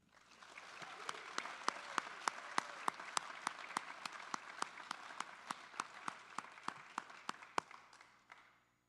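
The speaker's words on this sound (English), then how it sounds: "Please join me in a round of applause for inductees Mr. Tom Roy, Ms. Bailey Nenning, and Mr. Den" Sparse, faint applause from a small audience at a high school athletic hall of fame induction ceremony, individual claps standing out in a loose rhythm before it fades.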